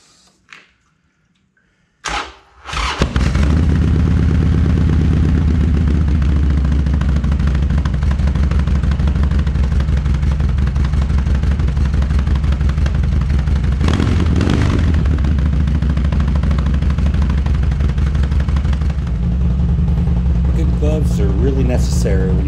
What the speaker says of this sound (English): Let's fire this thing up and we'll take her for a quick little spin. Have a listen to how she sounds.